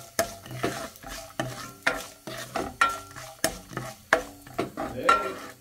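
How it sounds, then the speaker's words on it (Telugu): Cumin seeds sizzle in hot oil in a pan while a utensil stirs them in a steady rhythm of about a dozen scraping strokes, close and clear. "ఇప్పుడు నేను ఒక హాఫ్ టేబుల్ స్పూన్ జీలకర్ర వేసుకుంటున్నాను"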